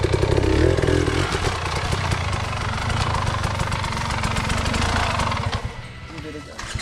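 An enduro motorcycle engine runs on a woodland trail, a close rough clattering rumble that holds steady before dipping briefly near the end.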